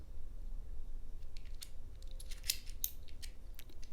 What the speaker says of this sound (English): and then tighten the screw back down